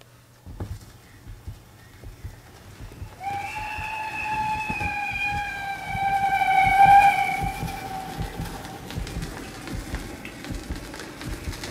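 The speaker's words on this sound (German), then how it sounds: "Man hört Vögelgezwitscher und den Zug pfeifen und auch ein wenig die Fahrgeräusche." Steam train whistle on an old home-cut record from Saxony, sounding several long steady tones mid-clip over faint running noise and crackle, with birdsong in the background.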